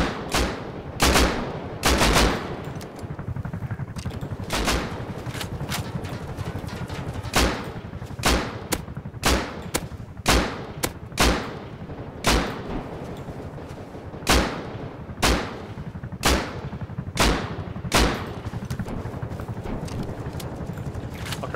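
Video game gunfire cracks out in loud, close bursts, with repeated sharp shots at an uneven rhythm that sometimes bunch into quick volleys over a low rumbling background.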